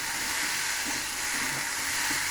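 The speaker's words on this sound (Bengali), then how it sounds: "এবার তরকারিটা একটু নেড়ে দেবো" Potato curry with salt and turmeric frying in a pan, a steady close sizzle with soft stirring scrapes underneath, no voices.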